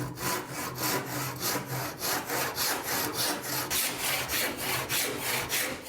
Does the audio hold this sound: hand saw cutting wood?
yes